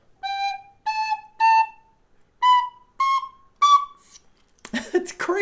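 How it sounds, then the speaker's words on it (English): A Clarke Sweetone high D tin whistle plays a short phrase of clear, bright notes close by, each note held briefly with small gaps between them, followed by a burst of rustling handling noise. "a great little whistle. The Clarke Sweetone with a nicer suit."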